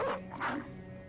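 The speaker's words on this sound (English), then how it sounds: "Now, our dog will not win in a straight-up fight with a direwolf, of course." A war dog in the video game Battle Brothers barks twice in quick succession, close and loud, over low in-game background sound.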